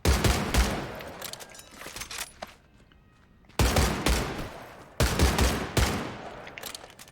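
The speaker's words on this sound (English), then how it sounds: "To show we can shoot pretty well with these guns." Gunfire in the video game Medal of Honor: Above and Beyond comes in loud rapid bursts, automatic volleys separated by brief quieter gaps, with no voices.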